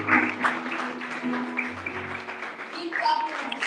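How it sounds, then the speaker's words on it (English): An audience at a women's conference claps and cheers for a guest being introduced, with lively, uneven applause mixed with voices and shouts throughout. "So we're clapping and standing ovation."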